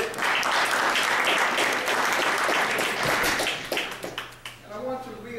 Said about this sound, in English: let's give the planning committee for this two-day conference, this two-day follow-up from last year's town hall meeting a big round of applause